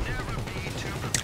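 Rapid machine gun fire from an aircraft-mounted weapon in GTA Online, a dense continuous rattle with a sharper burst near the end.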